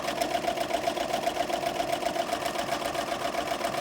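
A Vacoma EM 1010 embroidery machine stitching a design on a sweatshirt, with a fast, steady mechanical rhythm running continuously at moderate level.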